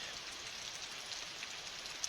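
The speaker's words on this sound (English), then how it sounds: "this is a good rain for us because it has been so dry." Rain falls steadily on a dry homestead, a soft, even hiss with occasional distinct drops pattering nearby, and no voices over it.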